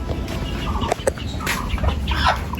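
Chickens cluck in short, scattered bursts against a noisy outdoor background, with a few sharper clucks standing out.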